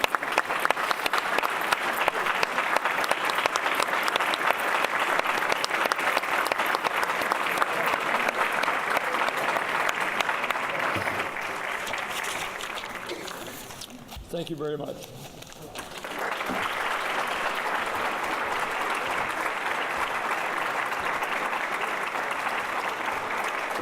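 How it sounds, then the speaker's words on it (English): Loud, dense applause from an audience at an alumni awards ceremony honouring Roy, running steadily and briefly dipping while a voice speaks near the middle before the clapping swells again. "we ought to have Roy stand up and give him a round of applause"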